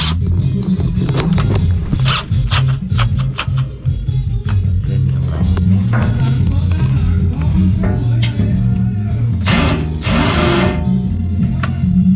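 A power drill whirs steadily up close, drilling a hole under a vehicle's tail for a neon light install, its motor pitch shifting slightly, with a couple of harsher grinding bursts near the end.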